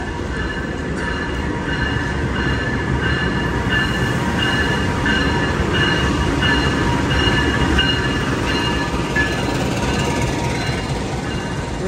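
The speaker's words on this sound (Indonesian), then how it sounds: "Ini kayaknya yang naik banyak banget ya kereta api Jayabaya ya." The Jayabaya passenger train, hauled by a CC-class locomotive, rumbles steadily past at close range, loud and continuous, with metallic wheel squeal and rattling carriages throughout.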